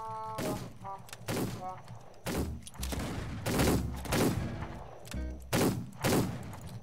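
Gunshots in a Wild West video game: about six loud, sharp reports spaced irregularly, some followed by heavy thuds, with a brief mechanical click before the first.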